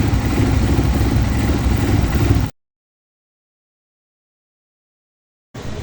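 Rusi Flame 150i motorcycle engine idling close by, a steady low rumbling putter that cuts out into silence, then resumes briefly at the end.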